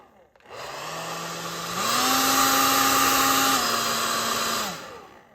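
A hair dryer switches on with a steady whirring roar, steps up to a higher speed, then winds down and cuts off.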